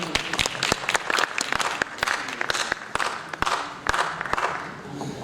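Audience clapping at an annual day celebration in Jabalpur, a moderately loud crowd of hands with sharper individual claps standing out, steady for several seconds without speech.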